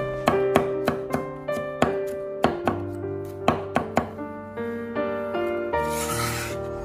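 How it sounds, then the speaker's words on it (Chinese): Knife blade smashing four garlic cloves and then mincing them on a cutting board, sharp chopping knocks that come singly and in short bursts, close and alone. "用刀将大蒜拍碎， 拍碎之后再改刀将大蒜切成蒜末"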